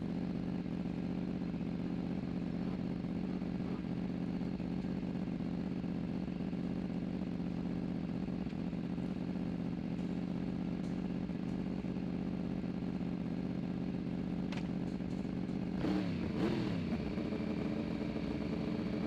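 Several Formula Pacific racing motorcycle engines idle and drone steadily together on the starting grid for a long stretch, then revs climb sharply near the end.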